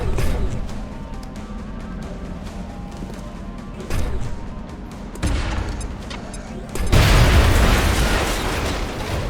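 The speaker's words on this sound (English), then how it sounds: "what if I launched a grenade?" A grenade is launched and explodes in the video game X-COM: Enemy Within, with a loud, heavy blast and rumble near the end, preceded by shorter bursts and mechanical game sounds.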